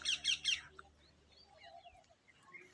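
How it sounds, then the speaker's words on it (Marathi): Sparrows chirp on a morning by a lake: three quick, bright chirps in a row, fairly close, then faint scattered twitters over quiet background. "हे चिमण्याचा पण आवाज येऊन आला"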